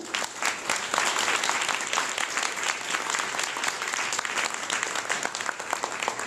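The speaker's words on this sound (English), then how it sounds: "So round of applause there." A room full of people applauding panel speakers at a tech workforce event: loud, continuous clapping with distinct sharp individual claps standing out from the crowd wash, steady from start to finish.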